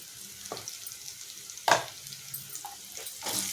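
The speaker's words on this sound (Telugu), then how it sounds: "ఇవి కూడా బాగా వేపుకోవాలి." Spices with ivy gourd and chickpeas frying in a pan on a low flame, a soft steady sizzle broken by a few sharp stirring scrapes and clacks, close and fairly quiet, no talking.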